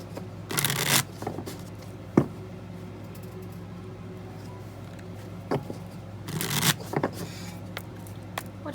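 Princess Bride Bicycle playing cards being shuffled in two riffle bursts, near and crisp, separated by quieter handling taps and a sharp snap in between.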